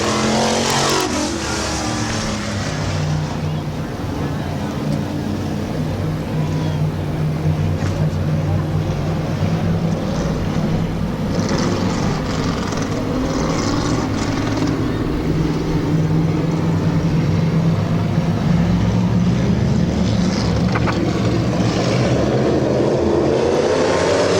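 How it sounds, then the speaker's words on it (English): Modified race cars roar through a heat race at Midvale Speedway, their engines a loud continuous drone with rising and falling revs as the pack passes, and crowd or track noise blends underneath throughout. "Underway for our second heat race in the modified."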